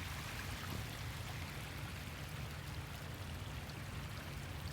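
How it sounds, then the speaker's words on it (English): Storm runoff rushes through a marsh stream in a dense, steady wash of flowing water. It stays constant and fairly faint throughout, with no voices. "Oh, there's a major storm runoff coming"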